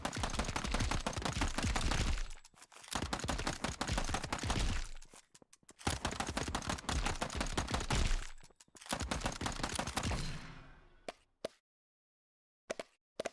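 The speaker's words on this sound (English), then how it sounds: "Now we got a machine gun, pretty much." Dense, rapid machine gun fire in the horde survival game GunRun, continuous rattling bursts broken by short pauses, ending in a few scattered single shots.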